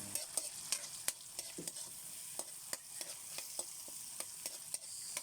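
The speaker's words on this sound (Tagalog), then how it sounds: "gisa tayo ng bagoong alamang" Bagoong alamang shrimp paste sautéing in a pan gives a quiet, steady sizzle with regular light taps and scrapes of a stirring spatula, faint and close, with no one speaking.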